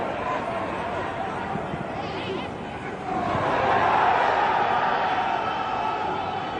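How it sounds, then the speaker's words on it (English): Ghanaian football supporters roar in a stadium crowd during a friendly against Switzerland, a steady broad wash of noise that swells louder midway as the attack builds. "Ghanaian supporters in the crowd making plenty of noise every time they get into the final third."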